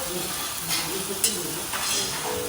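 Tomato roasting in a pan for Maggi noodles, giving a steady close sizzle and faint stirring scrapes with a couple of light clinks, with no voices.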